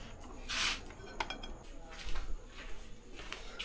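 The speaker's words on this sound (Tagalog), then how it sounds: "Lagay natin ang plato at kain na tayo." A plate is set down for serving freshly cooked fish, giving a few clinks and knocks of dishware and cutlery, close and moderately loud, with brief bursts of handling noise.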